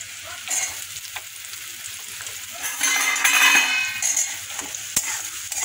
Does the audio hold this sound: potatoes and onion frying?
yes